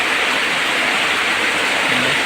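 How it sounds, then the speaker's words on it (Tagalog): Heavy rain pours steadily during Typhoon Enteng in flooded Marilao, Bulacan, a dense, continuous roar of water filling the whole clip with no voices. "Hanggang ngayon, lurok pa rin ang ulan."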